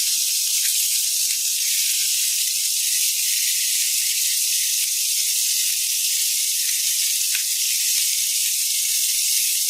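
Scallops sear in a hot pan, giving a loud, steady hiss and crackle that runs without a break from start to finish, with no voices over it.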